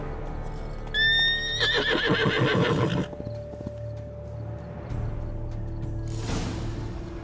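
Roach, Geralt's horse in The Witcher 3: Blood and Wine, gives a loud, clear whinny with a wavering, rising-and-falling pitch, followed by quieter snorting and shuffling hoof movements over a steady game ambience.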